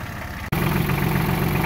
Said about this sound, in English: All right, I got on the tractor.